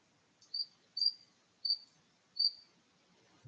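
A cricket chirping close by in a quiet room, four short bright chirps spaced about half a second apart, faint and alone.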